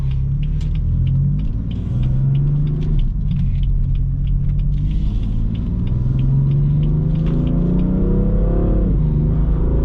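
2018 BMW M4 Convertible DCT Competition Package accelerating hard, a loud, close engine rumble whose pitch climbs steadily, then drops abruptly at a quick dual-clutch upshift near the end, with no talk over it.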